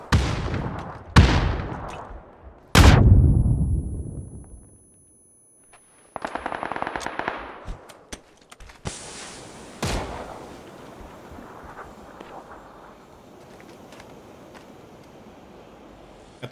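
Gunfire in the PUBG battle royale game: several sharp, loud shots and bursts with booming tails, then a quiet gap, a rapid automatic burst and further cracks fading into rumbling echoes.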